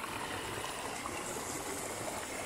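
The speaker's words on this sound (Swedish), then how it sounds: "Forsande vatten." Rushing stream water beside a hiking trail on the Bergslagsleden, a steady, broad roar of flowing water, moderately distant and uninterrupted by voices.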